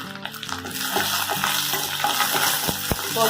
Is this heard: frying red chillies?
yes